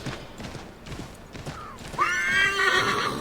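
A horse in the Assassin's Creed III video game whinnies loudly with a rising, drawn-out neigh, preceded by a run of hoof clip-clops and scuffing.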